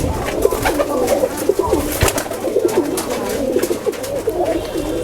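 Pigeons of an all-rounder breed, kept for both flying and show, coo steadily in a loft, with many overlapping birds close by and a dense, continuous murmur without speech.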